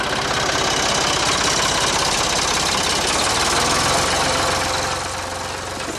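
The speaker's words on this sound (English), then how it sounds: "The big beast on the turf today is a tractor, turning chunky earth into finely graded dirt." A farm tractor grading chunky earth into fine dirt on a rodeo arena floor, its engine chugging steadily and loudly up close throughout, easing slightly toward the end, with no talk.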